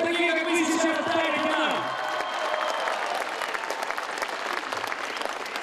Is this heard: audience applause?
yes